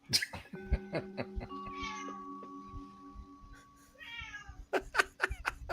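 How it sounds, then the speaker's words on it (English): A cat meows several times in drawn-out, rising cries, close and fairly clear, among tapping and clinking household noises. "What's with that cat?"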